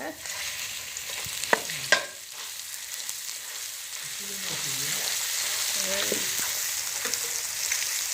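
Ground pirandai paste for pickle frying and sizzling in hot oil with mustard seeds, a steady close hiss with a couple of sharp stirring clatters near the start.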